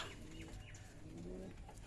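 Pigeons at a pigeon farm, faint low cooing and soft calls in the background, quiet and indistinct.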